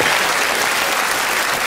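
A theater audience breaks into dense, steady applause for the mayor, a continuous close wash of clapping with no voices over it.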